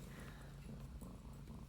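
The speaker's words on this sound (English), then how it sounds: "I apologize if you can hear my cat in the background." A pet cat purrs close by in a quiet room, a soft continuous low rumble.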